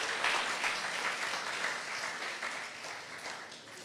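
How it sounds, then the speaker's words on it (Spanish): A church congregation at a Friday service breaks into sustained applause, a dense, steady wash of many hands clapping that fades slightly toward the end. "Dese un buen aplauso a usted y déselo al Señor."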